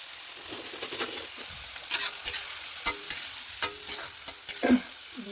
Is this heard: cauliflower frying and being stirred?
yes